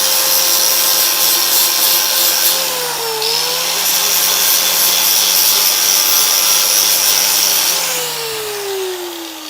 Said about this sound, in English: that's so much faster than hand sanding